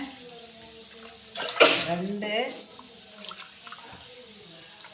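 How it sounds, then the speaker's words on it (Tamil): Water is poured from a cup into a cooking pot while making ragi kali, a short splashing pour standing out briefly in a quiet kitchen as a woman counts aloud. "அதுக்காக நாலு கப்பு தண்ணி ஊற்றிக்கிறோம்"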